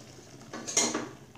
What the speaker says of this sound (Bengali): ঢাকনাটাকে এভাবে উঠিয়ে নেড়ে দেব